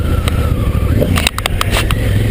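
A 2016 Honda Africa Twin motorcycle on the road, its engine a loud, steady low drone under heavy wind rush, with a few brief clicks and bumps near the rider.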